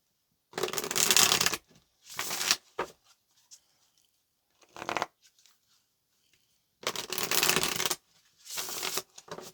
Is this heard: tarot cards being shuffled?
yes